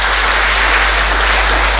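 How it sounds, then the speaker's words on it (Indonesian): A church congregation applauds and cheers for Jesus, a dense, loud, steady wash of clapping filling the whole moment without any break. "Berikan sorak-sorai buat Yesus Tuhan kita yang dahsyat"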